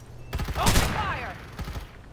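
Short burst of gunfire in the shooter game Farlight 84, a quick cluster of shots mixed with game voice callouts and effects, fairly faint overall.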